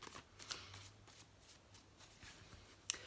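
A deck of tarot-style cards being shuffled for a reading, faint and close, with soft riffling and a couple of crisp snaps, alone without talk.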